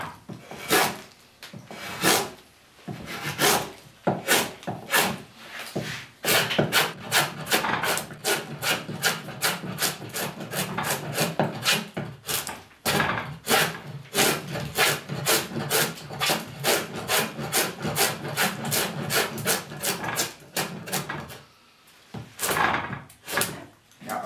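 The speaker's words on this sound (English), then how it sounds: "that's my vise, that's what's rattling" A wooden chair seat bowl is carved with strokes cutting downhill while held in a bench vise, which rattles. Steady rhythmic rasping strokes come close and loud, with brief pauses between bursts.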